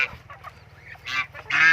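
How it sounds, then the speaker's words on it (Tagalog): Caged hens kept with a rooster for breeding cluck and squawk in short, loud bursts close by, separated by quieter gaps over a low, steady hum. "Ito nga pala yung mga manok na kinulong ko"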